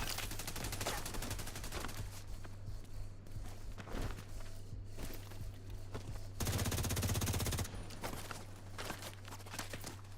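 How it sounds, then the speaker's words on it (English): Enemy NPCs firing guns in The Division 2, a dense, continuous patter of gunshots from several shooters at a steady loudness, with a steady low hum underneath and a stretch of heavier fire partway through. "now they're all friggin' shooting at me"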